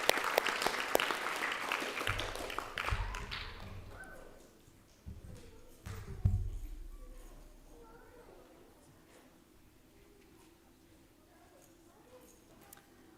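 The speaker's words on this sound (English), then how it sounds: "if you all can join me in giving her a round of applause for the work that she does to support" Applause at a school board meeting for an FFA sponsor, fairly faint and distant, strongest at first and then tapering off into scattered claps, with some voices and room noise.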